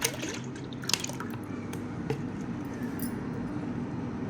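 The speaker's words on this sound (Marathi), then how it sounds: "आता आपण यामध्ये 2 लिटर ताक घेणार आहोत।" Two litres of cold buttermilk poured into a pot while making spiced chaas, giving a soft continuous liquid splashing with a few small drips and gurgles, close and steady with no talk.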